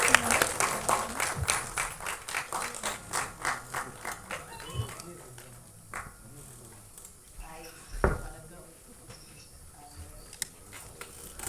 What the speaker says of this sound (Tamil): மீண்டும் ஒரு பெரிய கைத்தட்டல் கொடுத்துடலாம்